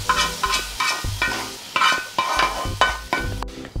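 Spices with turmeric stirred in a frying pan for a Sri Lankan jackfruit curry, a spoon scraping in repeated strokes roughly every half second over a steady sizzle, close and loud with no talking.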